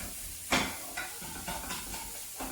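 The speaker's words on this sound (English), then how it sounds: "I'm going to mix mine in with the mushrooms so you get like a mushroomy, meaty pate" A spoon scrapes and stirs mushrooms into pâté for a duck Wellington, with one sharper scrape followed by softer, irregular strokes close up.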